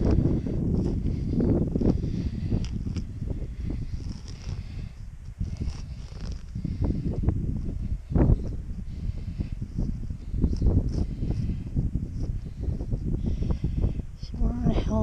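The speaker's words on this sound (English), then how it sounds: "It's windy." Strong wind buffeting a handheld GoPro in an outdoor park, a loud, rough low rumble of gusts across the microphone that continues throughout, with someone talking underneath.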